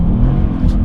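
A Mercedes-AMG car powers through snow, its engine giving a close, loud, low rumbling drone that holds steady under the throttle for a brief moment.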